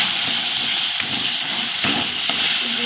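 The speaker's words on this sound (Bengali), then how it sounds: "আদা রসুন পেস্ট যাচ্ছে, এটা ভাজতে থাকি।" Ginger-garlic paste fries in a hot pan, giving a loud, dense, continuous sizzle and hiss. A few faint clicks of stirring sound close up, and no voices are heard.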